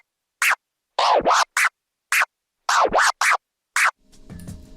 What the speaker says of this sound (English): Then move on to performing a baby stab stab continuously in a rolling manner like this.